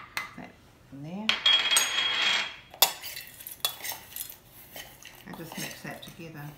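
A utensil mixes smoky paprika into a grated cheese topping for scones in a bowl, with clinking metal-on-bowl scrapes and taps in irregular bursts, fairly close, no talking.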